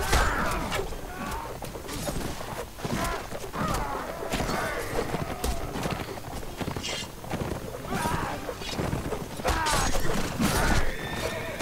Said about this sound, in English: Hey, horses.